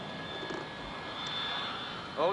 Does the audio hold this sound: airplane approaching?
yes